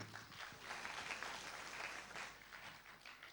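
Applause at a Faso Academy 2017 launch event as a jury member is called to the stage, a continuous wash of many hands clapping, fairly soft and distant, with no voices on top.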